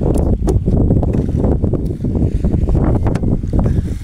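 Strong wind buffets the microphone outdoors on a Dumagat fishing trip, a loud, steady low rumble with gusty surges throughout and no voices.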